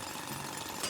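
A drill starts up in the video game Splatoon Raiders, a brief steady rattling, hammering buzz heard alone and fairly quiet.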